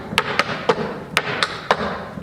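Clogging drag and brush steps on a hard floor give a quick run of seven or so sharp taps and thuds in an uneven rhythm, close and clear with no talking.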